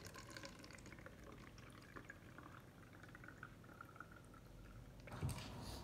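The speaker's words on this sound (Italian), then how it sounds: "Iniziamo col versare l'aceto qua dentro al bicchiere." Vinegar poured into a glass for a homemade volcano, a steady faint liquid trickle at close range that continues for several seconds, with a louder clatter at the end.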